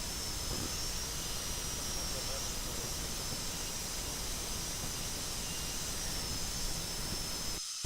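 A high-speed dental drill grinds enamel from a tooth during porcelain veneer preparation, a steady, bright whining hiss that runs continuously and close before cutting off abruptly at the end.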